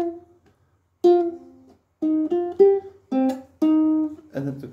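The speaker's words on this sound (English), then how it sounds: "your first bar of the intro keyboard riff should sound like this." Ukulele picking a song's intro keyboard riff in slow motion, a handful of separate plucked notes with gaps between them, close and clear with no talking.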